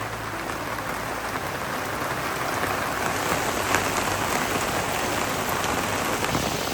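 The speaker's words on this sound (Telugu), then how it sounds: "బ్యాడ్ లక్ ఏంటంటే భయంకరంగా వర్షం పడుతుంది" Heavy rain pours steadily outdoors where Chicken 65 is being cooked, a dense, even hiss of drops on surfaces throughout, with no speech.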